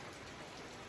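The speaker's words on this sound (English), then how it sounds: "it's still raining" Steady rain falling outdoors over a driveway, a faint, even hiss of drops with no distinct pattern, brief and without voices.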